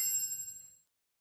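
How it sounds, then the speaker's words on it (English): A small metal pin drops with a single bright, high tinkling ring that decays quickly into silence, faint and isolated. "We can take you from a pin drop"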